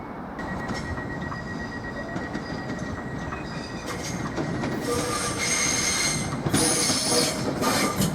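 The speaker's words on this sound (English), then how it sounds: "I've got 755338 is now pulling into the station." A Class 755 train pulls into Norwich station, its wheels squealing in high sustained tones over a steady rumble of rolling stock, growing louder and closer toward the end.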